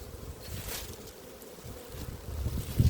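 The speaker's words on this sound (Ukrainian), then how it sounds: "бачите, вітер у нас сильний, друзі" Strong spring wind buffets the microphone at a beekeeping apiary, producing low gusty rumbling that rises and swells toward the end, with a faint insect-like hum in the background.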